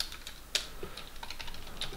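Keystrokes on a computer keyboard while entering HTML code, a steady run of light, quick clicks with one sharper tap, close and fairly quiet, with no talking.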